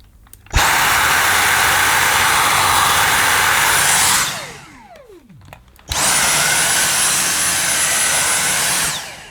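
A Dyson V6 Fluffy cordless vacuum's mini motorized tool runs at maximum with a loud, steady high-pitched whine, cuts off around four seconds, then starts again after a short pause and runs on.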